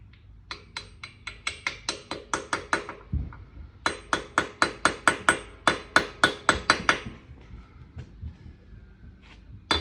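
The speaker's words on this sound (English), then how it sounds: "Trusty hammer again." A hammer taps an engine part into place, about two dozen sharp metallic blows in quick, fairly even bursts, close and loud, with brief pauses between runs.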